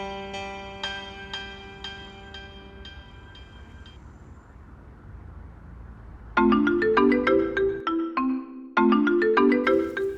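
A mobile phone rings with a melodic, musical ringtone when a father calls. Soft repeating chimes come first, then louder bursts of bright notes repeat rhythmically with a short gap between them.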